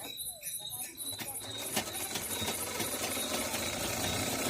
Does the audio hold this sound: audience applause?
no